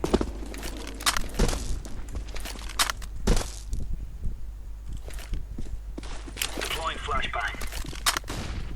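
In the video game CS:GO, a silenced pistol fires several muffled, soft pops. They are scattered among footsteps and busy in-game noise, with a voice talking at times.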